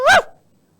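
A mimicry artist's voice imitates a dog's bark for a dog in Kashmir, a single short, loud, close bark that cuts off quickly into silence.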